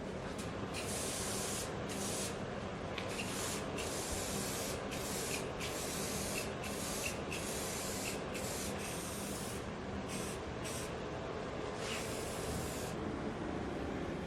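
Repeated bursts of aerosol spray paint hiss onto a wooden battery charging station, a dozen or so short and longer blasts in an irregular rhythm, close and loud, with no voices.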